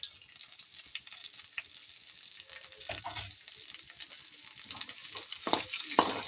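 Two large thinly sliced onions frying in oil for a beef roast, a steady soft sizzle with occasional utensil scrapes and clinks, growing a little louder toward the end.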